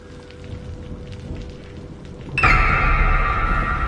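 Rain falls on a dark, deserted road in a Hindi horror story. A soft, steady patter suddenly swells into a much louder, heavier downpour with a booming, thunder-like surge.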